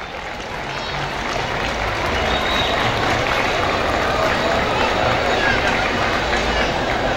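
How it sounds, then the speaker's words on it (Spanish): Sustained crowd applause and cheering at a street parade, a dense, steady wash of clapping and crowd noise that swells slightly and holds at full level throughout. "Recibámoslos con un caluroso aplauso."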